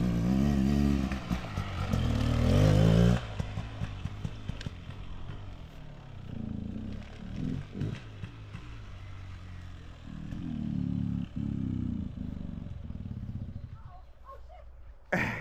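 A 2024 Beta Xtrainer dirt bike circles nearby, its engine rising and falling with revs, bursts of throttle and clattering between, while a person talks over the riding.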